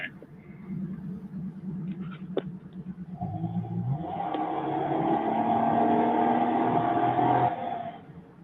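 A car engine with a tuned exhaust revs up after some low idling and clicks, rising into a sustained, throaty roar that holds for several seconds before easing off, fairly close.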